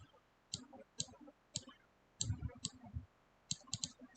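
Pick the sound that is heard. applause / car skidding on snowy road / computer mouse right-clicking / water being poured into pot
computer mouse right-clicking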